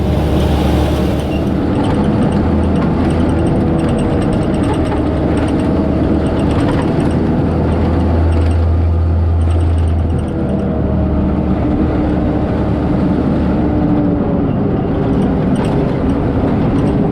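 Off-road vehicle engine labouring up a steep, loose canyon trail during a poker run race, a loud, steady low-pitched drone with a brief swell in revs midway, no talking.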